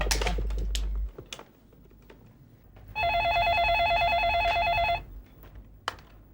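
A telephone is dialed in a home with a few quick keypad taps, then rings in a steady, electronic, multi-tone trill for about two seconds before it stops. No one speaks.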